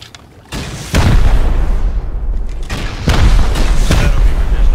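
Explosive shots from the game Rust slam into a metal-joined base wall during a raid, landing as heavy booming blasts, one after another, with rumbling tails and no talk over them.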